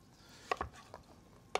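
A knife chops butternut squash on a cutting board in a kitchen, giving a few sharp, fairly quiet knocks spaced irregularly, with no talk over them.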